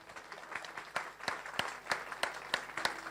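Applause at a Christian church service, a congregation clapping in a fast irregular patter with sharper individual claps standing out, fairly faint and steady throughout.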